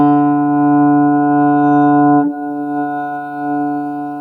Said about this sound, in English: That pitch is ringing above the main note.